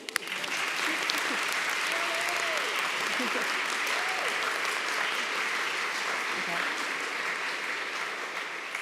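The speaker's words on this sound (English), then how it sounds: "I would like to offer a round of applause to Leonie" An audience at a library staff awards ceremony gives a steady, full round of applause for an award winner, dense clapping that holds at an even level throughout with a few faint voices mixed in.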